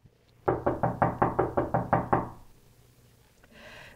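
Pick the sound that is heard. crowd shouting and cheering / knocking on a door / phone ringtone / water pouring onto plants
knocking on a door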